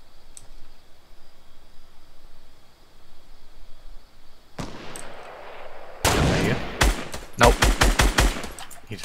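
Fortnite gunfire starts after a quiet stretch with a single shot, then breaks into rapid, loud bursts of close weapon shots with sharp clicks between them.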